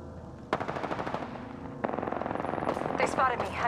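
Rapid automatic gunfire in Apex Legends, a dense burst of repeated shots starting sharply, pausing briefly, then resuming loud and close with overlapping in-game voice lines.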